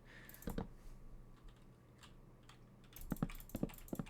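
Loud computer keyboard clacks come in short clusters: a couple of quick strokes near the start, then a faster run of sharp key presses toward the end, close and clear against a quiet background.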